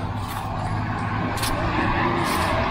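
A truck passing on a road on a gloomy morning, a steady close engine rumble with a brief hiss partway through, continuous and moderately loud.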